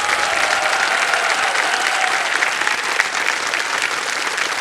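A studio audience on the quiz show Kaun Banega Crorepati applauds a contestant who quits with 25 lakh rupees, a dense, even burst of clapping filling the room from start to finish.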